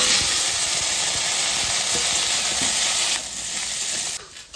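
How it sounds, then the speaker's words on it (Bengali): Soybean chunks frying in a pan of oil, a loud, dense, continuous sizzle that drops in level twice near the end, as if stirred or the heat shifts. "আমার সোয়াবিন ভাজা হয়ে গেছে, লাল করে ভেজে নিচ্ছি"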